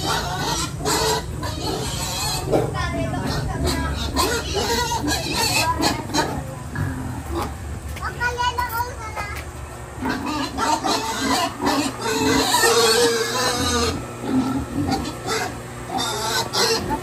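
Pigs and chickens crowd a farm pen, clucking, squawking and grunting together in a loud, constant din that never lets up.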